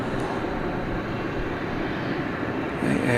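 A passenger jet departs DFW airport at night, its steady, broad engine roar filling the scene at a distance and swelling slightly louder near the end, with no voices over it.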